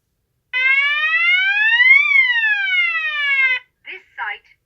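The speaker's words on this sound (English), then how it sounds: "next up is the burglary message," Klaxon Nexus 110 burglary alarm siren on stage 2, sounding a loud sweeping wail that climbs for about a second and a half and then falls over a similar span before cutting off abruptly, followed by two brief fragments of a recorded voice.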